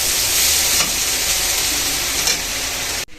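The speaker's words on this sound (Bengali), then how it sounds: "আর এটা একজন আলু খায় না, তার জন্য বিট আর গাজর ভাজা হচ্ছে।" Beetroot and carrot frying in a pan make a loud, steady hiss and sizzle that runs unbroken for about three seconds and then cuts off abruptly.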